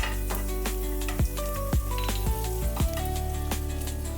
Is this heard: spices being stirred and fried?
yes